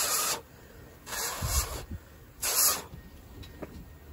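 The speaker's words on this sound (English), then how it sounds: "Now I gotta spray that out again because I dropped it." A carburetor part from a junkyard 26 HP Briggs & Stratton V-Twin Intek engine is sprayed in two bursts of aerosol cleaner up close, loud hissing blasts separated by quieter handling noises.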